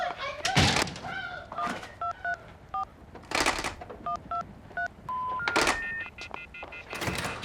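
Rapid two-tone dialing beeps from a phone keypad as 911 is dialed, several evenly spaced tones mixed with loud thumps and handling noise, with one longer held tone near the end.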